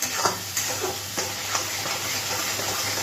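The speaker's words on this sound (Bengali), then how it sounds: "মশলাটাকে ভালো করে কষিয়ে নিচ্ছি।" Masala for a pangas fish curry stirred and frying in a pan, a steady close sizzle with soft scraping strokes of a spatula recurring every half second or so, no talking.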